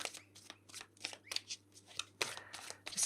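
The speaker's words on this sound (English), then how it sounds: "Just got to keep shuffling till it feels right." Tarot cards are shuffled by hand in quick riffling bursts, a steady series of soft papery flutters close by, with no talking.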